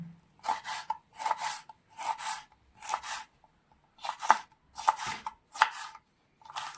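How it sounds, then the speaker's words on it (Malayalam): Two green chillies chopped with a knife on a board: eight crisp, evenly spaced bursts of cutting strokes, close and clear, with short quiet gaps between them and no voices. "രണ്ട് പച്ചമുളക് നമ്മൾ ചെറുതായിട്ട് കട്ട് ചെയ്തെടുക്കുകയാണേ"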